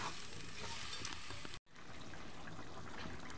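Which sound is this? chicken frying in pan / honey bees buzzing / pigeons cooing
chicken frying in pan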